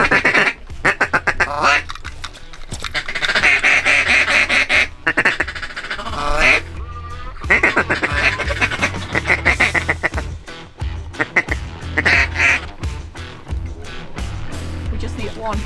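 Wild ducks quack loudly and repeatedly in rapid bursts during opening duck season, close and harsh, with pauses between volleys and people talking at times.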